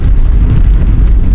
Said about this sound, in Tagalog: So, ayan, umuulan.